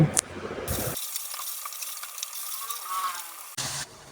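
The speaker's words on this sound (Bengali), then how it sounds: "পেঁয়াজটা সুন্দর করে লাল লাল করে ভেজে নেব" Chopped onions frying in oil in a pan, a soft sizzle with scraping stirring noises, broken by short louder clattering bursts at the start and near the end; no talking.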